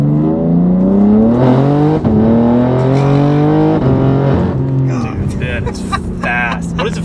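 Loud, close engine roar from a BMW G80 M3 pulling hard, rising in pitch and then dropping with fast, firm gear shifts, heard from inside the car as occupants talk over it.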